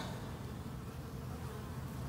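Many honeybees fly around hives on an unusually warm November day, their dense, continuous buzzing a soft, even hum with no voices.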